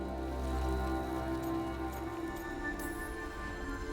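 Steady rain falling in the video game Dragon Age: The Veilguard, a constant broadband hiss of drops on surfaces with low droning ambience underneath, no voices.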